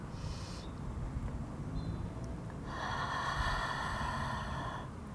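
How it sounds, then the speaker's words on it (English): Deep breathing during a gentle outdoor yoga class in a park: slow, audible breaths in and out, a long airy exhale swelling near the end, close over soft outdoor background. "Let's take a few more breaths of 3 more sets."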